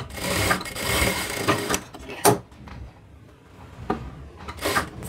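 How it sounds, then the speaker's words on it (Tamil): A sewing machine stitches a blouse armhole in short bursts of fast whirring, separated by pauses with rustling and handling of fabric. "வச்சி 1/2 இன்ச்ல தையல் போட்டுக்கோங்க"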